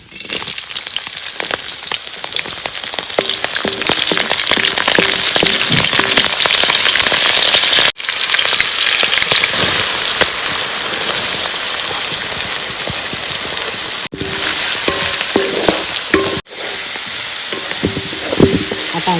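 Chillies fry in hot oil in a pan during Malvani village cooking, a loud, continuous, close sizzle that runs steadily with a few abrupt short breaks.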